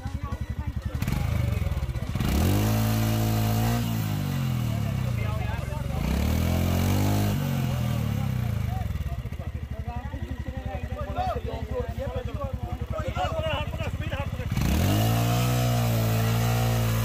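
A Royal Enfield Himalayan motorcycle revs hard off-road, its engine repeatedly rising and falling in loud close bursts over about seventeen seconds while people talk and shout over the noise.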